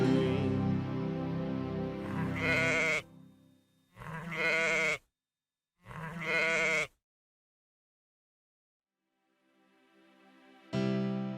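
Sheep bleating close and loud in separate calls: a long bleat, two short ones after brief pauses, a long silence, then one more starting at the end.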